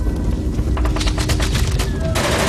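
Machine-gun fire from concealed positions in a D-Day battle documentary: rapid bursts of shots crackling in quick rhythm over a constant low rumble, loud and fairly close, with a faint tone near the end.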